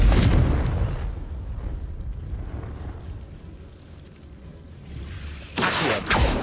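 Confringo fire spell exploding in Hogwarts Legacy on PS5, a loud booming burst at the start that fades into a low rumble, then two sharp bright blasts near the end.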